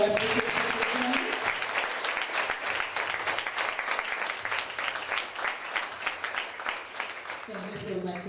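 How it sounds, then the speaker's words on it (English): Audience applause at a university computer science panel discussion, sustained dense clapping for several seconds with some voices mixed in, fading near the end. "So let's give a very big round of applause to show our appreciation."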